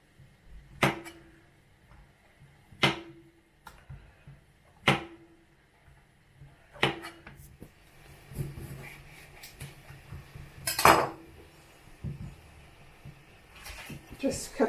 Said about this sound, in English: I'm going to get on with cutting up the mushrooms now.